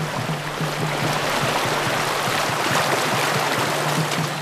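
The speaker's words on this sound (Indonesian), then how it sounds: "Kami harus melewati sebuah sungai berarus deras." Rushing current of the Mabul River in the Papua rainforest, a dense, loud, continuous roar of fast-moving water with steady hiss and no voices.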